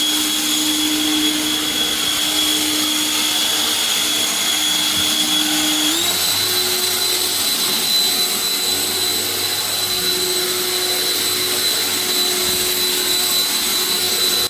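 A Parkside Performance PPELB 1650 A1 electric axial leaf blower with a 1650-watt motor runs steadily and loudly with a whining fan drone, its pitch stepping up partway through and holding there for the rest of the run.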